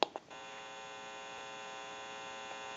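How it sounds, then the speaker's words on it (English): An open amplifier in a Western Electric 323 candlestick rotary telephone produces a steady, faint electrical hum after a couple of soft clicks at the start, continuing evenly in an otherwise quiet room. "You may hear a little bit of an electrical hum."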